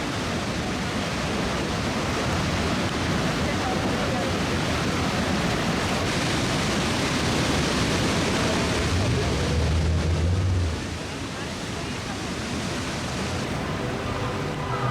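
Iguazu Falls in Argentina thunders with a massive torrent of falling water, a loud, continuous, broadband roar that eases slightly near the end, with a brief low rumble partway through.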